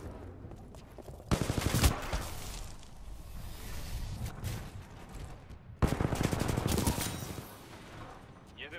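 Titanfall gunfire as a Ronin-class titan fights: two loud bursts of rapid automatic fire, one near 1.3 seconds and another near 5.8 seconds, with quieter battle noise and a faint voice between them.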